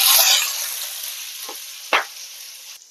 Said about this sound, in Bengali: তাই বিনসটাকে আমি আগে ভেজে নিচ্ছি।